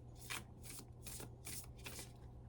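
Tarot cards shuffled by hand in five quick bursts of crisp riffling, each about a quarter second, evenly spaced over a steady low hum, close and moderately loud.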